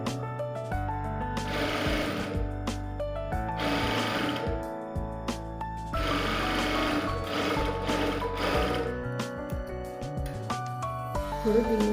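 A sewing machine stitches a blouse lining in repeated bursts of rapid clatter, with short pauses between runs and steady background hum, close and alone.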